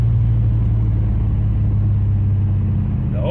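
A car fitted with an Edelbrock carburetor pulls hard under acceleration, its engine a loud, dense, continuous low roar heard close up without any talk.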